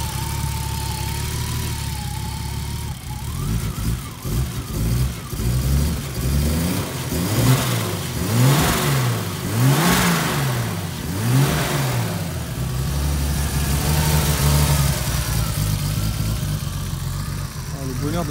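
A turbocharged BMW E36 engine revs up and down in repeated swells, loud and close, with a steady idle underneath and people talking over it.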